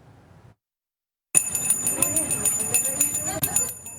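Handbells rung by Salvation Army volunteer bell ringers at a Red Kettle collection spot during the holiday season, a bright repeated metallic jingling that begins suddenly after near silence and continues steadily, close and fairly loud.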